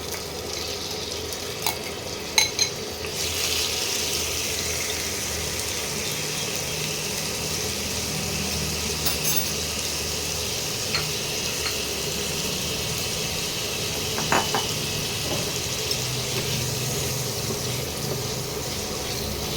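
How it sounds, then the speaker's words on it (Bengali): Prawns fry in hot oil with a continuous steady sizzle throughout, broken by a few sharp clinks of stirring. "তেলটা গরম হয়ে এসছে এবারে আমি চিংড়ি মাছটা ছেড়ে দিচ্ছি"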